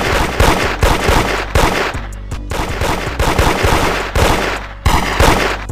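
Rapid gunfire in Roblox Da Hood, with dense bursts of sharp, loud shots, some in automatic strings, that repeat with brief gaps throughout.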